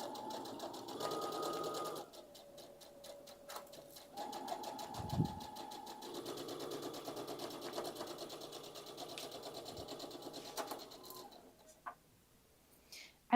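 Sewing machine stitching dress fabric in quick runs of rapid ticking, with short pauses between runs and faint handling noises. It stops near the end.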